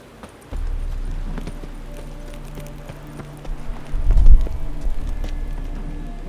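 Horse hooves gallop in The Witcher 3 as Geralt's horse runs, a steady drumming clip-clop over a low rumble that swells louder near the end, with no talk.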